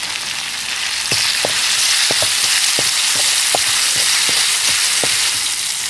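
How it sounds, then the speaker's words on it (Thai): Ginger and garlic frying in oil in a pan, a loud, steady sizzle with occasional sharp clicks of stirring, no voices. "ขั่วขิงกับกระเทียมเจียวอีก"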